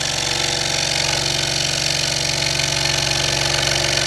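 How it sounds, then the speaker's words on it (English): A scroll saw cutting a wooden desk sign, its blade chattering in a loud, steady, fast buzz that continues evenly without a break. "But this saw does a nice job."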